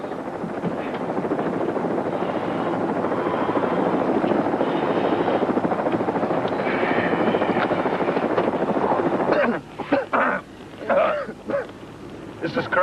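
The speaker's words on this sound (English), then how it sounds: "The chopper's up there, I heard it." A helicopter drones loudly and continuously overhead, a dense rotor roar that cuts out abruptly near the end, leaving a few broken bursts.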